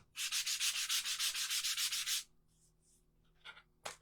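Close, steady rhythmic strokes of sandpaper rubbing over a small wooden cherry cutout, running for about two seconds before stopping, then a couple of faint brief scrapes follow.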